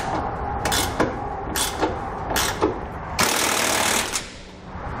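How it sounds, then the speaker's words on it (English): Bolts on a Curt trailer hitch receiver being installed on a 2019 Chevrolet Colorado are run down with a power tool, several short loud whirring bursts followed by one longer sustained burst, nearby and without talk. "we can go ahead and tighten everything down."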